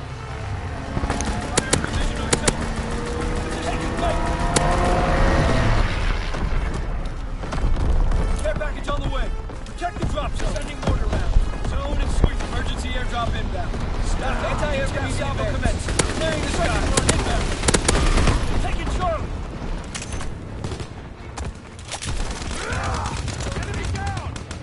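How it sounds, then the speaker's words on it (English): Strafing-run machine-gun fire in a WWII video game, dense rapid bursts and booming impacts running throughout, with voices talking over the battle. "Strafing run inbound."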